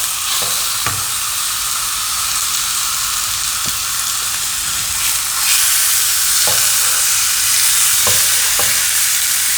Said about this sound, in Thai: แล้วเราเอาขาหมูของเรามานาบนะคะนี่ค่ะ เราใช้กระทะเผาหรือว่าย่างนะคะ